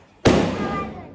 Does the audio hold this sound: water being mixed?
no